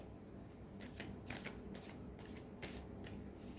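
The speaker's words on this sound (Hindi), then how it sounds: "इसके ऊपर मैं कुछ कार्ड्स भी रख देती हूँ" Tarot cards are shuffled and laid onto piles, giving quiet, close riffling bursts and soft slaps in a faint, steady room tone.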